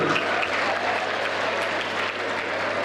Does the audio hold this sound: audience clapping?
yes